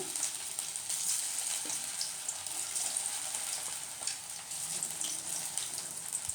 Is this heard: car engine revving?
no